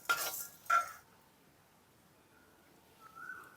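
Roasted fish fry spices are scraped out of a pan with a metal utensil: two quick close clinks and scrapes, then near quiet and a faint sizzle.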